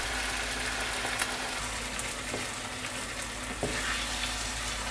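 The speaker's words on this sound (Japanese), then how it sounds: "ここでベーコンを加えて全体をよく混ぜます" Bacon frying and being stirred in a pan with cream and other ingredients, a steady close sizzle with a few scraping stirs and light clinks.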